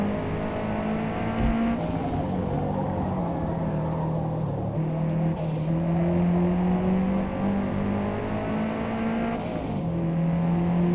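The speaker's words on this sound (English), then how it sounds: "the chittering tires are fantastic" A race car screams through a hot lap in the Forza Motorsport video game, its engine holding loud, shifting tones while the tires chitter through the corners, with no voices.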